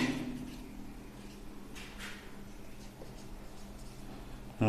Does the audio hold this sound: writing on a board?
yes